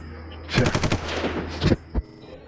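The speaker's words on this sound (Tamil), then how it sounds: "எப்படி இந்த ஊரு இப்போ எங்க பார்த்தாலும் துப்பாக்கி சவுண்டா கேட்குது" Rapid machine-gun fire used as a sound effect in an audio story, a loud burst of close, quick repeated shots followed by a couple of separate heavy single reports.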